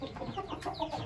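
Rooster clucking repeatedly from inside a cage, fairly close, with short overlapping calls and no talk over it.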